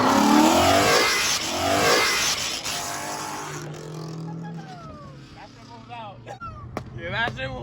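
A turbo car accelerates hard past at a car meet with its wheels spinning, a loud roaring rush that fades into the distance as people talk and exclaim nearby.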